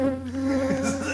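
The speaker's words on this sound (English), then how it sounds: "Look at that bee." A large bee buzzes loudly and close by with a steady droning hum that wavers slightly in pitch as it moves around inside a tarp tent.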